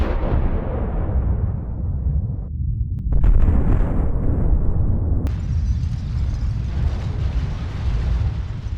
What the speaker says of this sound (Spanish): la bomba atómica.